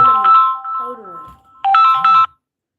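A phone's electronic ringtone plays loudly up close for an incoming call, a melodic tone phrase followed by a brief pause and a second repeat, with a voice-like sound mixed in between rings.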